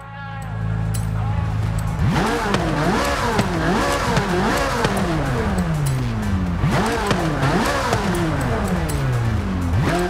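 Forza Horizon 5 Corvette C8 Z06 idles briefly before its exhaust bursts into repeated loud, close revs that sweep up and down in pitch for the rest of the clip.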